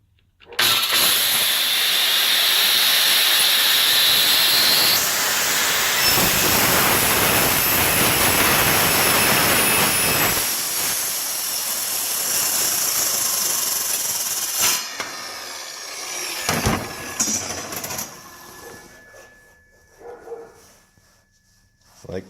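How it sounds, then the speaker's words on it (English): A cold cut saw grinds steadily through metal during a welding project, a loud, continuous close-up cutting roar that changes pitch midway and then stops, leaving quieter clatter and a dog barking. "it's a cold cut saw, so everything doesn't get hot"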